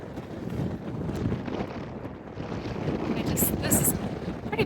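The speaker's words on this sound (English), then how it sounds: "the wind is really picking up" Strong wind gusts on a climb along the Cape Wrath Trail in Scotland, roaring and buffeting close against the microphone in a continuous, rising rush with no clear talk.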